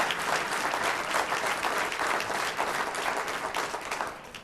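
An audience at a mayor's State of the City address applauds steadily, a dense, sustained wash of clapping that holds at full strength before easing slightly near the end.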